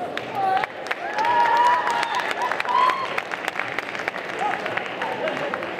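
Audience clapping at a cosplay conference during a Japan manga convention in Saint-Étienne, a steady patter of hands with tonal sounds and voices mixed in, fairly close and even in level.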